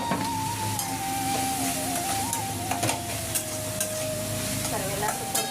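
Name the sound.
upma ingredients being stir-fried in a pan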